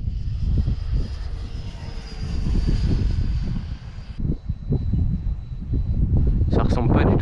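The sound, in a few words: RC depron F86 model jet flying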